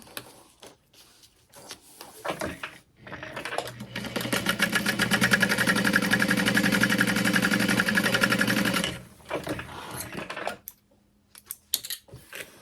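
Sewing machine stitching a straight seam on a sling bag, a rapid, steady mechanical whir running for about six seconds, close and clear, with light handling clicks before and after.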